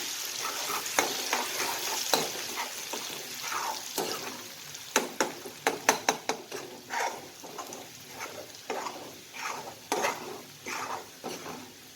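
Garlic and chili sauté in a pan for Rajgira bhaji with a continuous sizzle and a run of sharp, irregular stirring clatters against the pan, close and fairly loud.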